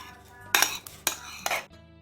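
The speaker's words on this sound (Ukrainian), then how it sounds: "Додаємо яйця збиті з цукром, сметану та погашену соду." Eggs beaten with sugar, sour cream and slaked soda are added to crumbled margarine and flour in a bowl for a dough, with three clinking utensil-on-bowl scrapes, close and fairly loud.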